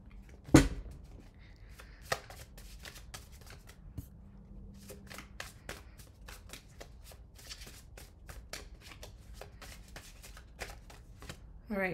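A deck of tarot cards is shuffled by hand, with a steady run of soft riffling flutters and light taps after an initial thump, close and quiet against a faint background hum.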